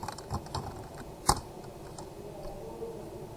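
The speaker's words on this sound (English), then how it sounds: "So what you're going to do here is type in print hello world." Typing a print command on a computer keyboard in a Python shell, a few soft scattered keystrokes with one sharper key tap near the middle, quiet and close.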